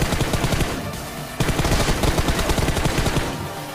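Rapid automatic gunfire bursts from the video game Free Fire, loud and close, in dense repeated volleys with a brief break partway through.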